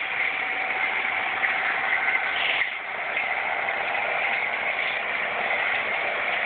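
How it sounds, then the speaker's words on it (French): A tractor engine runs loud and steady at close range, a continuous droning rumble with no break and no voices. "Le tracteur très fort."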